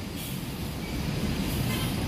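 Two Padang intercity buses rumbling through a bus terminal, a loud, dense, continuous engine roar that is close and steady, with no clear talking.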